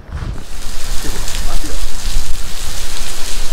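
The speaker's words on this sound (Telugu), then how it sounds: "ఒక భారీ వర్షం మొదలైంది" Heavy rain beginning outdoors, a loud dense hiss of drops pattering on surfaces that swells and stays steady throughout, close to the microphone with no speech.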